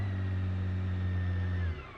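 A 2023 BMW K1600 Bagger motorcycle engine hums at raised revs, a steady close drone holding for under two seconds before dropping off to a lower idle.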